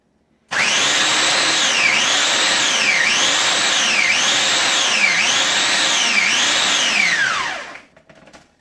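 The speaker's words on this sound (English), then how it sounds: "insert the graham crackers into the food processor and pulse them on high" A food processor pulses graham crackers on high, giving loud, whirring motor bursts with a repeating wavering rise-and-fall pitch for several seconds before spinning down.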